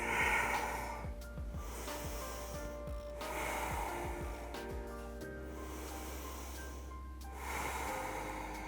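Slow, deep yoga breaths held in triangle pose, each long airy inhale or exhale swelling and fading about every two and a half seconds, steady and close over a faint sustained tonal background.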